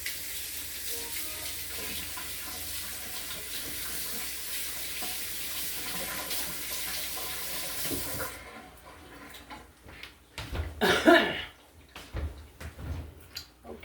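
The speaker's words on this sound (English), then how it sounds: "Let me wash my hands really quick" Tap water runs steadily into a kitchen sink as hands are washed, a continuous hiss and splash that drops off partway, followed by a few clattering handling sounds near the end.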